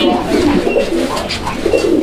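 Repeated soft, rolling coos from an Indian sky-blue golla pigeon, close and steady across the whole stretch, with a faint background hum.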